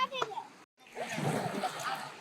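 Water splashes as people bathe in the sea at Dhara Beach in Zanzmer, a broad, close splashing wash that follows a brief voice and a short gap.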